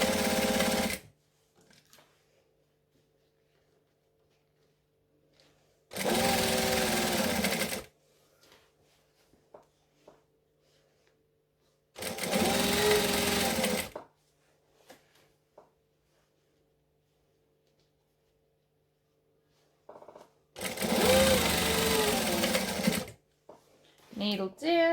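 A sewing machine stitches a saddlebag in four loud bursts of a few seconds each, separated by quiet pauses while the fabric is adjusted and tucked.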